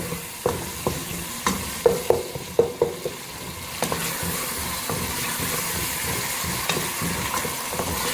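Masala for pumpkin curry frying on high flame in a pan, with a constant sizzle and a run of spatula knocks and scrapes that are frequent early and sparser later, and no voices.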